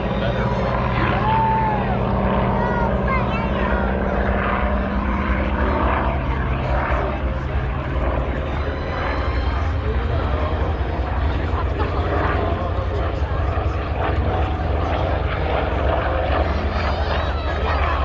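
A propeller airplane flies overhead at the 2022 Abbotsford International Airshow in Abbotsford, British Columbia, its loud, steady engine drone filling the whole stretch without letup.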